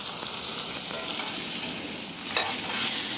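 Two ribeye steaks sear in a hot pan in a Pizza Plus countertop oven, giving a steady loud hiss of fat and a brief scrape partway through, heard close with no talking.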